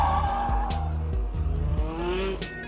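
A Nissan 350Z with Gktech camber drifting on a track and spinning out, tires squealing in rising, wavering screeches over a pulsing engine drone, moderately loud and close, with no talk.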